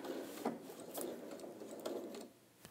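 An Elna sewing machine sews a bag, its needle clattering in an even, quick rhythm of stitches close by, with no talk, before slowing near the end.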